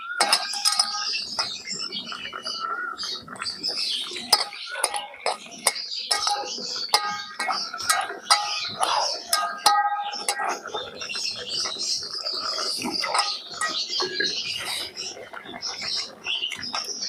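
Potato and flour batter stirred in a bowl as water is added a little at a time, giving steady scraping with frequent bright spoon clinks against the bowl, close and continuous.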